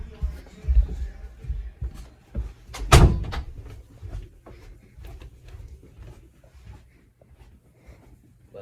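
A door is shut with a sharp thump in a home near the basement, with soft shuffling and footsteps around it and no talking.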